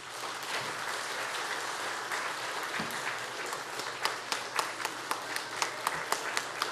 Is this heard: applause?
yes